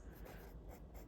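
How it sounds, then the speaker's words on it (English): A pencil scratches across paper in short rhythmic strokes, a quiet, close dry rasp repeating several times with no talking. "I'm gonna write in a pencil"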